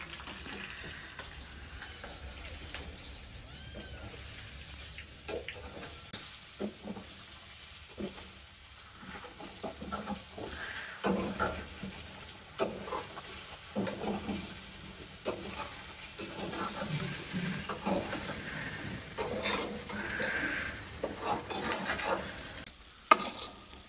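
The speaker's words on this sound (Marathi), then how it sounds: "मग परतून घ्यायचं चांगलं कडक होत्याच्या मध्ये" Coriander vadi pieces stir-fry in a pan, a soft steady sizzle under intermittent scraping and stirring strokes, faint and close, with no talk.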